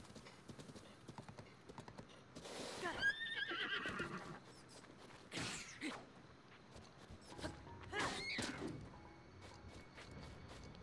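A horse in Zelda: Breath of the Wild whinnies loudly twice amid a brisk clip-clop of hooves, the neighs rising sharply over steady hoofbeats and faint background game sounds.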